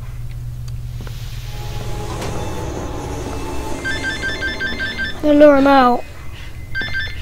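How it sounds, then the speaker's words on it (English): A phone ringtone sounds over steady engine-like game background noise, a repeating electronic chirp pattern near the end, while someone speaks. "that's just my phone"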